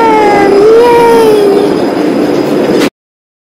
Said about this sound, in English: Our tram!